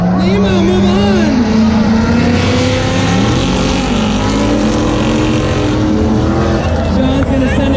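An off-road A-arm truck races at the Off-road Expo in Scottsdale, Arizona. Its engine roars loud and close, revving and shifting pitch with rising and falling whines, and a voice talks over it.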